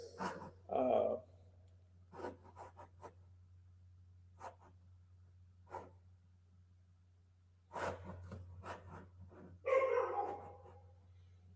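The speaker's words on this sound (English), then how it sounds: "there goes my dog" A pet dog barking indoors, several short separate woofs spread across the stretch, moderately loud against a steady low electrical hum.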